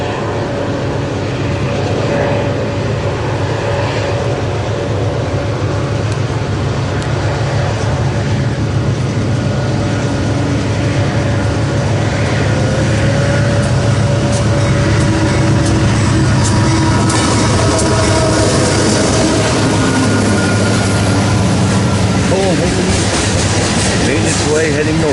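A loaded coal train passes at Ashland, Nebraska, a broad, steady rumble and grinding roar of heavy wagons that holds at full strength for the whole stretch, with a voice occasionally talking over it.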